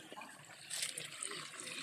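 A flowing mountain stream on a Hong Kong hiking trail, a continuous bright rushing and babbling of water, close and fairly soft, with a slight surge midway.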